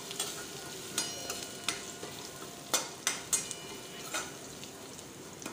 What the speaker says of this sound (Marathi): आपल्याला हे छान असं परतून घ्यायचं आहे तेलामध्ये